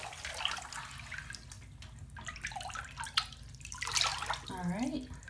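Soapy, bubbly bath water is stirred by hand, with drips and sloshing splashes close by under intermittent talking and a brief high voice near the end.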